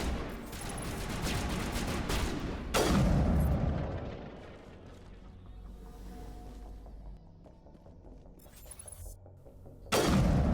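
Sniper rifle shots in the Mass Effect video game: two sharp, loud blasts several seconds apart, each followed by a rumbling decay, with quieter game ambience between them.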